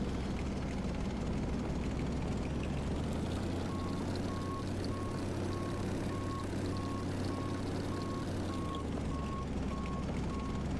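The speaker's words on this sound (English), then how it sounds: "That beeping must be for the markers" A steady series of short, evenly spaced marker beacon beeps sounds over a constant droning engine hum of a VSKYLABS Micro-Hopper aircraft in X-Plane 11.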